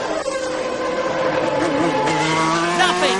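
Formula One cars, a McLaren Honda and a Williams Renault, scream past at full throttle with loud, high engine whines sweeping up and down in pitch, under race commentary.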